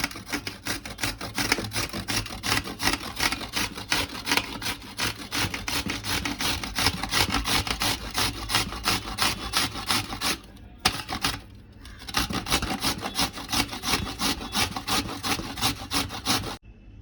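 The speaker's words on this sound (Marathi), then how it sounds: "अशाच प्रकारे सगळे गाजर आपण किसून घेऊया" Carrots are grated by hand for carrot halwa, a fast, steady rasping scrape repeated in rhythmic strokes, close and continuous, with a brief pause partway through and no speech.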